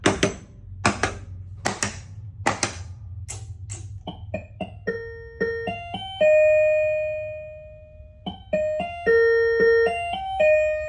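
A run of loud, sharp mechanical knocks from a pinball machine knocker, followed by a series of bright, ringing chime tones that sustain and overlap, close and with no voices.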